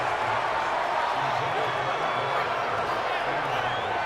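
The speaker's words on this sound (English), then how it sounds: "You can already start to hear this crowd. They're saying, go for it." A simulated football stadium crowd roars continuously in a Bengals versus Browns video game, a dense, distant wash of cheering and chanting heard beneath commentary.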